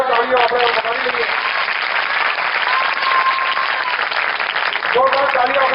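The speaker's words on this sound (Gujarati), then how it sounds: "જો તમને બધાને મજા આવી હોય તો એકવાર જોરદાર તાળીઓ આપણે બનાવી લઈએ." Strong, steady audience applause fills the hall throughout, with a faint tone and some talk surfacing at the edges, at a devotional kirtan antakshari gathering.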